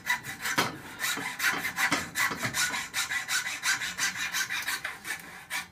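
A hand saw cuts through material while an old knife is being restored, giving steady rhythmic rasping strokes, roughly two to three per second, loud and close with no talking.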